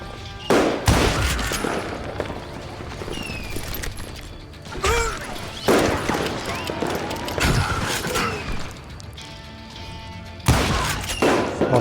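Gunfire rattles through a Call of Juarez Gunslinger shootout, with repeated loud shots and cracking impacts scattered across busy game sound, and a few louder blasts standing out.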